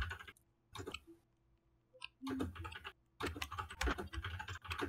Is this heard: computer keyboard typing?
yes